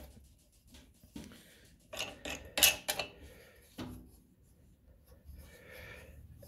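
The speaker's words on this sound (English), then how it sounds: "And all I'm doing would be tightening the screen into the holder." A screen is tightened into a screen printing holder, with a short cluster of close scraping, clicking and handling sounds in the middle and quiet rustles before and after.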